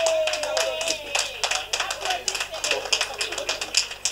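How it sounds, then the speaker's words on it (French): People clap their hands at a Moele-Bénin party gathering celebrating an election victory, rapid overlapping claps close by, mixed with a sustained tone and voices talking underneath. "moi-même j'applaudis"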